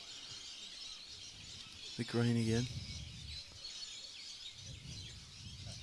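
A mudlark (magpie-lark) gives a short, loud harmonic call on an outdoor lawn bowls green, a single burst rising over steady background hiss and quiet commentary.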